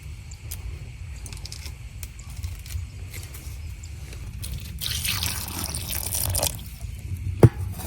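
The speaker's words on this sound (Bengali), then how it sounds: "তেঁতুল গুলা একটু ভালো করে ধুয়ে নেই" Tamarind being rinsed by hand in water, soft continuous trickling and swishing with a brief louder splashing stretch toward the end and a single sharp knock just after, close and fairly quiet.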